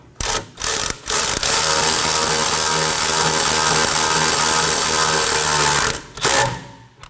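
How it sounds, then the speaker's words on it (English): An 18mm bolt being snugged down on a rear shock absorber mount of a 2015-2023 Nissan Maxima gives a loud, close, continuous mechanical whirring, like a power tool running steadily, with brief gaps near the start and end. "Now snug down your 18mm bolt."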